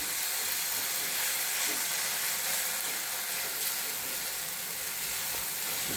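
Vegetables, with tomatoes, cook under a pressed-down lid over a low gas flame in their own juices, giving a steady, even hiss and sizzle with no break.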